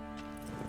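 Horse hooves in The Witcher 3 video game make a quick, close clip-clop under a steady game soundscape, lasting less than a second.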